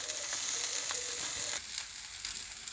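Chicken pieces and sweet potatoes sizzling on a braai grill, a steady close hiss and crackle of fat with a few faint clicks, heard alone without talk.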